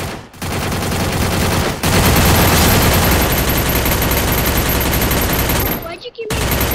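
Sustained, loud automatic gunfire from the Free Fire video game, a dense continuous burst with a brief break near the end before firing resumes, up close and dominating the mix.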